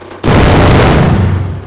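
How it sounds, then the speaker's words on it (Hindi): A large explosion in the Indian Bike Driving 3D video game, a single loud, close boom that hits suddenly and rumbles down into a long decaying blast over about a second and a half. "और ये बहुत ही बड़ा वाला धमाका है।"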